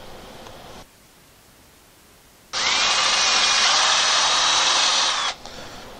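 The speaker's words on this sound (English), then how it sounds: "I'm going to just drill these out" A power drill drills out screw holes in melamine shop cabinet panels, starting after a short pause and running as one loud, steady whine for about three seconds before it stops, close by, with no talking.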